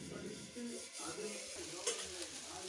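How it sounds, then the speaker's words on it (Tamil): Ivy gourd (coccinia) being stir-fried in a pan for a Tamil-style poriyal, giving a soft, steady sizzle and occasional stirring scrapes under low background noise. "கோவக்காய் இப்போ நல்லா வதங்கிடுச்சு"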